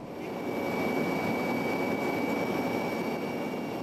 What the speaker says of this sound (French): les hélicoptères suisses font des approches